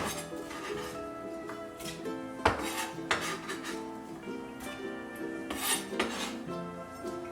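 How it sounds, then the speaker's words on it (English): Chopped onions go into the bottom of an Instant Pot being readied for ribs, making a run of close metallic clatters and scrapes, with a few sharper knocks, over steady background music. "I'm going to go ahead and throw my onions already chopped right at the bottom there."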